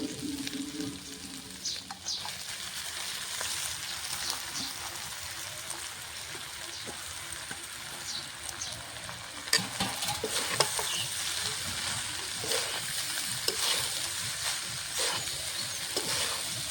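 Vegetables and rice fry and are stirred in a pan, a continuous sizzle with scraping spatula strokes and occasional louder clinks, steady and close throughout.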